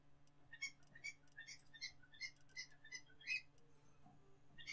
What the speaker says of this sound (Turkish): Tam benim şey yapacağım zamana kuşlar ötmeye başladı.